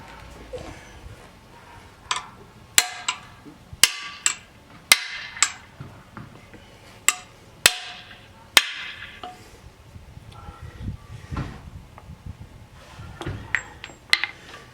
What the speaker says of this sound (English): I'll just hammer right here.